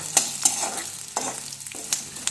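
Seasoning ingredients with garlic frying in a pan for puffed rice oggarane, with soft sizzling and several sharp spatula taps and scrapes at irregular intervals, close and unaccompanied by speech.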